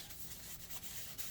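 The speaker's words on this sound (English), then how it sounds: "go over the top with a little rag or something, right? Make sure you're rubbing that image in there" A small rag rubs over a heat-transferred image on custom fabric shorts, a faint, steady, soft brushing scrub that lasts about a second.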